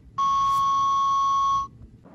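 A voicemail beep sounds once, a clean, steady, high-pitched tone held for about one and a half seconds before cutting off, standing alone over faint background noise.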